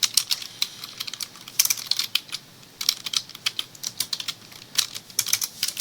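Rapid, irregular key clicks from a computer keyboard as build commands are typed for an atmospheric chemistry model setup, close and fairly crisp, coming in uneven bursts with brief pauses and no talking.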